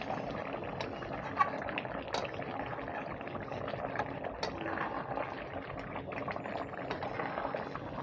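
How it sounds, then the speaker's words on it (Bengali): Chicken curry boiling in a pot with garam masala, a steady dense bubbling and simmering that runs through the whole stretch at moderate, close volume with no talk. "টকবক টকবক করে ফুটছে আমাদের চিকেন কারি।"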